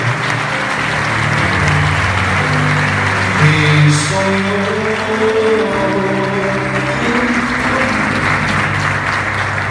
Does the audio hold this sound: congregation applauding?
yes